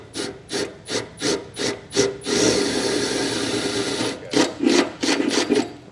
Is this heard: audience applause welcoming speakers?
no